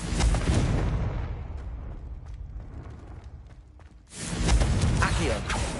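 A fire spell bursts in Hogwarts Legacy gameplay on PS5 with a loud explosive blast that rumbles and fades over a few seconds, then a second heavy burst of crackling game effects, no speech heard.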